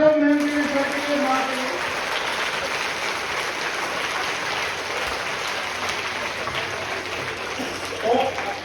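A school audience at a road safety month celebration applauds as a broad, steady wash of clapping that fades slightly toward the end. A voice speaks briefly at the start.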